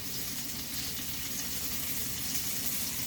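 Steak sizzling in a pan while cooking for Mongolian beef, a steady, even frying hiss with no breaks, fairly quiet and close, and no talking.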